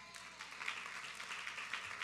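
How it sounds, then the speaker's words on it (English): Soft, somewhat distant applause from a church congregation welcoming new members during a Sunday worship service, a short burst of continuous clapping. "Give them a round of applause."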